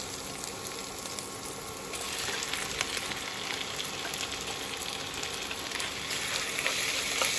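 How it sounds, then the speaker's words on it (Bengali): Mutton being stirred into spices frying in a pan produces a soft, steady sizzle with scattered scraping and stirring clicks. It grows slightly louder partway through and stays fairly faint and close, with no voices. "এবার আমি মাংসটা মিশিয়ে দেব।"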